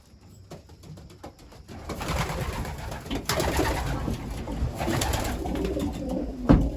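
Racing pigeons coo inside a loft after their evening flight, a steady low murmuring chorus with occasional wing flutters and shuffling, building slightly louder toward the end, with one sharp knock near the close.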